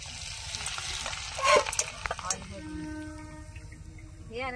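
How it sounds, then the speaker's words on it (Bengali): Raw rice frying in boiling-hot oil gives a crackling, hissing sizzle with sharper pops and stirring near the middle, steady and close, with a voice briefly audible toward the end. "কত সুন্দর চাল ভাজা হয়ে গেল তাড়াতাড়ি"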